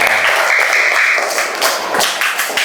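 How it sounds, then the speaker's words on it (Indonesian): Schoolchildren clapping in a classroom, loud close taps and thuds in a quick uneven burst that lasts a couple of seconds. "Tepuk tangan sekali lagi"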